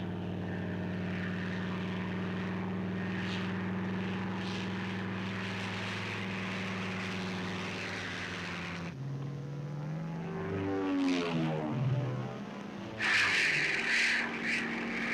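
World War II P-40 fighter planes flying low, propeller engines droning steadily and loudly, then a shift as an aircraft sweeps past with a rising and falling pitch before another roar builds near the end.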